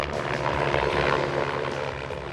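Helicopter rotor and engine roar loud and steady overhead during a desert bighorn sheep capture in Arizona, a dense continuous thrum with no voices.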